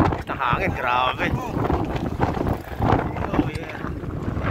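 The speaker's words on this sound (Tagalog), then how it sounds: "Ito ang hangin, grabe." Strong wind gusting at a downhill and cross-country bike race, rough blustery buffeting across the microphone, loud and continuous under people talking.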